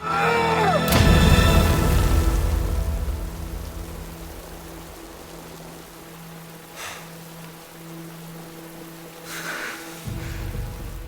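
Rain falls during a scene from the series Squid Game, a steady hiss of drops under a loud crash near the start and a low drone, with occasional brief bursts.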